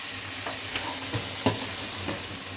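Fried rice frying in a pan with steady sizzling, punctuated by a few clinking stirs of a utensil at close range, without anyone speaking.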